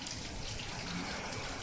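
Steady rain pours down on a rainy day, a dense continuous wash of water that fills the whole scene at an even, fairly loud level with no voices.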